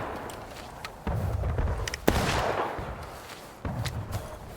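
Musket fire in the video game War of Rights during a line battle: a few scattered sharp reports, one loud crack standing out, over a steady rumble of distant battle noise.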